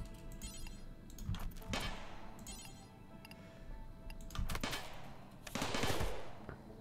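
Turrets in Rimworld firing at a cobra: several bursts of quick clicking shots separated by short pauses, fairly faint over a quiet game background.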